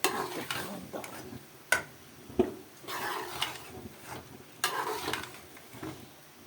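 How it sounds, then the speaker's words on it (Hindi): Potatoes being stirred and fried in a pan, with a soft continuous sizzle under scraping strokes and a few sharp clinks of a spoon against the pan, close by and moderately quiet. "तो यहाँ पे भी हमने आलू को जो है वो अच्छे से भुनाई कर ली है।"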